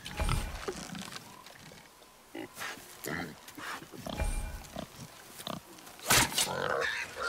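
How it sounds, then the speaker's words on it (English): Wild boar grunting and squealing in the God of War video game, several rough snorting bursts spread through the clip, with a voice speaking in between. "A wild boar's hide is thick."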